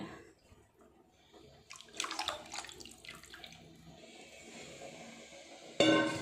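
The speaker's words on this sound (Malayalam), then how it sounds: "ഞാൻ പുളി നല്ല ചൂടുവെള്ളത്തിലിട്ടിട്ടാണ് പിഴിഞ്ഞ് ഫുള്ളായിട്ട്" Soaked black tamarind is squeezed by hand in hot water, giving soft, faint wet squelches and trickling splashes close by, with a brief louder splash at the end and no talk.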